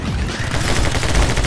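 Rapid, dense video-game gunfire from My Friend Pedro: loud, continuous bursts of automatic shots and overlapping blasts filling the whole moment with no talk.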